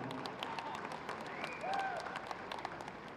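Audience applause at a grand film launch event, a steady wash of clapping from a crowd that swells briefly midway and stays dense throughout.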